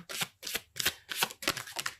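Tarot cards being shuffled by hand in a series of crisp riffling bursts, about six quick ruffles in two seconds, close and fairly quiet, with no talking.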